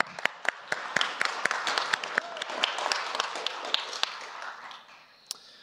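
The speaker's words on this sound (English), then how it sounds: "So I just want to give a special round of applause to them." Applause from the audience at a BSidesSF 2018 security conference closing ceremony, a steady patter of many hands clapping with sharp individual claps standing out, fading near the end.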